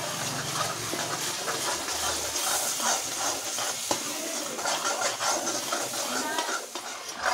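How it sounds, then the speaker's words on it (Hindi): Sliced onions sizzle steadily in a pan of hot oil with ginger, garlic, a bay leaf and black cardamom, a loud, continuous frying hiss with faint stirring clinks and no talking. "अभी इसमें डालेंगे प्याज और इसको भी अच्छे से भून लेंगे।"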